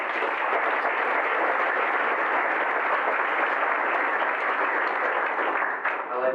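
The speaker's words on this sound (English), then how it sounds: "I like that slow clap." An audience at a recovery breakfast claps continuously, a loud dense roar of hands held steady for about six seconds, fading slightly at the end.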